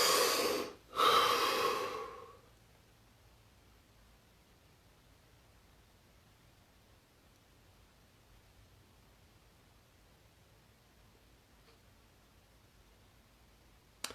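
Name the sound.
deep breathing during relaxation exercise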